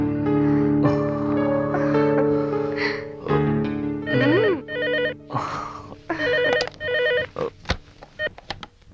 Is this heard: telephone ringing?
yes